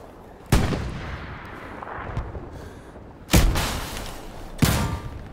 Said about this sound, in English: I got one rocket in.